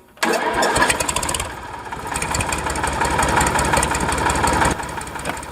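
A restored Krasser forestry tractor from 1961, fitted with a two-drum winch, starts abruptly and settles into a steady, close, rumbling idle with a slight knock, continuing alone.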